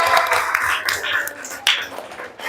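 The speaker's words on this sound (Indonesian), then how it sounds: "tepuk tangan untuk kita semuanya" A class of students applauding, a steady patter of many hands clapping together with voices and chatter from the children.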